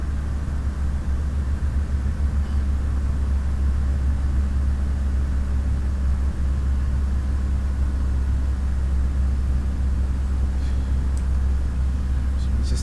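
Aircraft engine on a VFR flight over Corfu, a steady, loud, deep rumbling drone that fills the cabin without letup, with only faint, brief clicks near the end.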